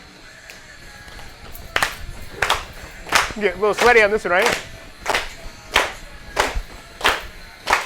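A teacher's hand claps fall in a steady, fast pulse, about 180 beats per minute, during a rhythm and tempo lesson. They are sharp and fairly close, under talk and a short sung or hummed phrase.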